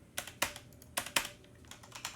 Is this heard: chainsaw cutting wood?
no